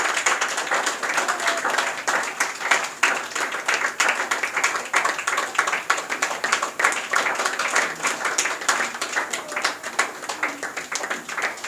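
An audience at an academy anniversary celebration keeps clapping, steady moderately loud applause running without pause throughout.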